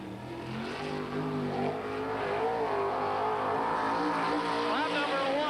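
Sprint car engines roar continuously during a World of Outlaws race in 1987, their revving loud and droning under a public-address announcer's voice.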